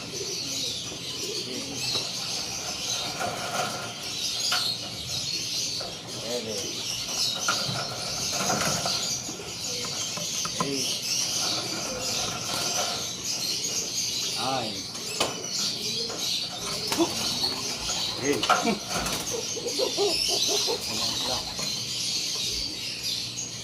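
Racing pigeons at a loft during basketing coo steadily, with chirps and occasional wing flaps in a busy, continuous bed of bird noise, while voices murmur in the background throughout.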